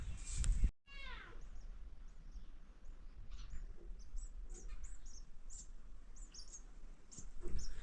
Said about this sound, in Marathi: चिमण्यांचा पिल्लांचा आवाज येतोय का तुम्हाला?